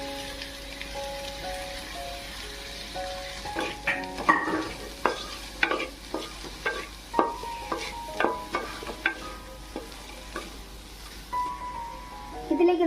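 Chopped onion, tomato and chili fry in a pan for kothu parotta, a crackling sizzle with repeated sharp scraping stirs in a steady rhythm, close and moderately loud, with a brief faint voice near the start.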